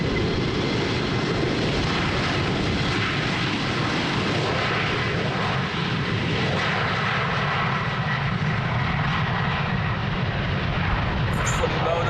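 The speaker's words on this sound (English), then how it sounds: "But I'm expecting a relatively short takeoff for the 747." A Cargolux Boeing 747-8 freighter taking off on a windy day at Amsterdam Schiphol, a loud, unbroken wall of jet engine roar holding steady and powerful from start to finish.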